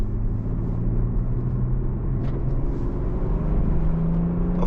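A BMW M340i in sport mode drones along with a steady low engine hum and faint road rumble from inside the cabin, a smooth, moderate note that rises slightly near the end.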